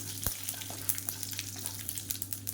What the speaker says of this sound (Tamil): இப்போ கடுகு எல்லாமே நல்லா புரிய ஆரம்பிக்குது